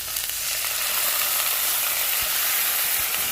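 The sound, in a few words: soy sauce added to hot pan with cashews, sizzling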